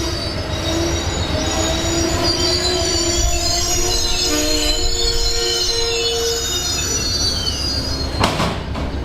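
Amtrak train wheels squeal loudly and steadily on the rails for several seconds, a sustained metallic screech with rumbling rail noise beneath it, heard close and alone.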